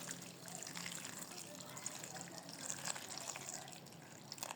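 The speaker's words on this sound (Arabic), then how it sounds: "كنشليلوها بالماء طيب بحال هكا" Olives being rinsed under running water, a steady close gush and splash of tap water pouring over them in a container, continuous with light droplet patter throughout.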